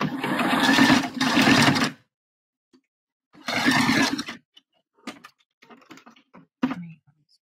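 A sewing machine stitches short bursts of bar tacks on a bra's casing, two longer runs followed by a few brief stops and starts, close and fairly loud, with no talk over it.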